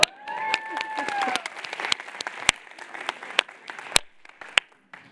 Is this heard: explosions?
no